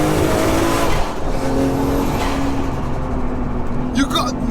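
An 800 bhp Nissan R34 GTR with a 2.8 L RB26 stroker engine on boost gives a loud, sustained engine roar with gear changes. Voices talk excitedly throughout.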